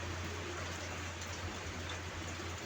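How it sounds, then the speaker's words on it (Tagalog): Rain falling outdoors as a steady, faint hiss of drops, continuous and even throughout with a low hum underneath. "Ulan diri sa area namo."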